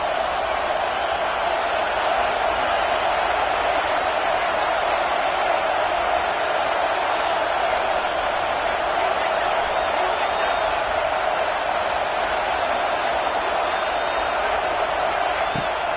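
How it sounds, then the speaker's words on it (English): Stadium crowd noise from an American football video game holds as a loud, steady roar for the full stretch, a dense wash of voices with no breaks. "Decibels rising as the crowd gets behind this defense on third down."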